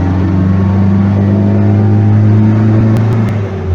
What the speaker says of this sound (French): je pense que le bruit du carburateur.